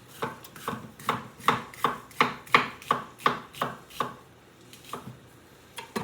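A knife chops a thick yellow onion and garlic on a cutting board, giving a steady run of about fifteen crisp, evenly spaced chops that slow near the end. The chops are close and clear, with no talking.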